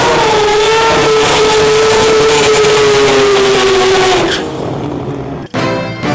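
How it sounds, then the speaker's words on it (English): A drag racing car does a burnout, its engine holding a loud, steady high rev as the rear tyres spin and smoke, then the roar drops away, cuts out briefly and flares again near the end. "That's when you do a burnout and you smoke the tyres."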